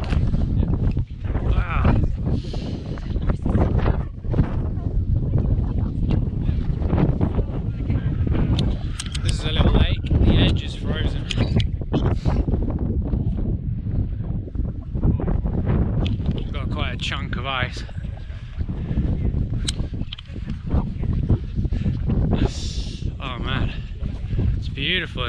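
Strong wind gusting steadily at a snowy winter wild camp in Wales at minus eight degrees, a loud continuous buffeting roar with someone talking over it throughout.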